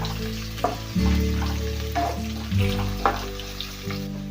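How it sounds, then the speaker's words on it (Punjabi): Finely chopped ginger and garlic fry with fenugreek seeds in hot oil for a pumpkin sabzi, halwai style. The sizzle is steady and close, with scraping stir strokes about every second and no voices. "ਆਪਾਂ ਪਾਵਾਂਗੇ ਇਹਦੇ ਵਿੱਚ ਅਦਰਕ ਤੇ ਲਸਣ ਬਰੀਕ ਕੱਟੀ ਹੋਈ ਠੀਕ ਹੈ ਜੀ 1-2 ਚਮਚ ਤੇ ਇਹਨੂੰ ਵੀ ਭੁੰਨਾਂਗੇ ਆਪਾਂ ਹਲਕਾ ਜਿਹਾ"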